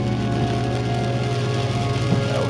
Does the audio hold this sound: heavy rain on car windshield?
yes